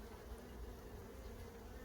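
Honeybees chewing their way out of capped brood on a light hive frame give a steady, faint buzzing hum that holds evenly throughout, with no voices.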